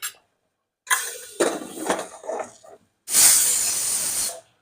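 A pressure cooker on the stove holding a mixed vegetable dish of radish pods and ground peanuts lets off steam in sputtering bursts, then one loud, sustained hissing whistle close by.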